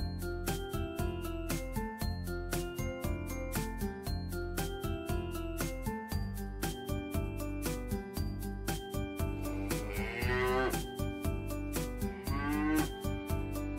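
Rhythmic background music plays throughout, and near the end a cow lets out a couple of drawn-out moos over it.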